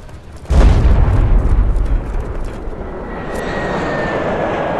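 A bomber airstrike in Modern Combat 5 opens with a sudden loud boom, then a heavy roaring rumble that slowly fades into a steady aircraft engine drone with a thin high whine.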